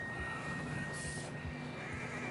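A horse in the video game Red Dead Redemption 2 whinnies loudly and shrilly against a busy game soundscape, with a faint hum running underneath.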